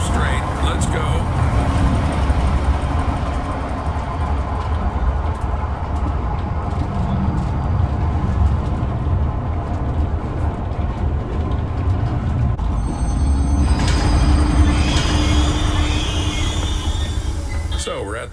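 A train in the video game Zoochosis starts up and rides toward the giraffe enclosure station, giving a steady, loud mechanical rumble with rattling that runs unbroken for the whole stretch.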